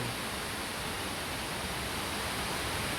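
Mantayupan Falls waterfall roaring as a dense, steady wash of rushing water, close and constant, with no voices or other sounds.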